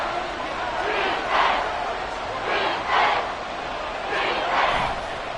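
Stadium crowd at Arrowhead during a football game on third and goal, a steady roar with three swelling waves of loud chanting or yelling rising and falling in rhythm.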